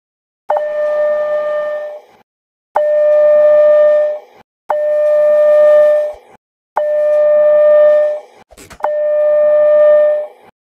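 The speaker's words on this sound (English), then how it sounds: "That was the fire alarm." A hotel fire alarm sounds after its pull station is pulled: five loud, near horn blasts of about two seconds each, separated by short gaps, with a brief click near the end.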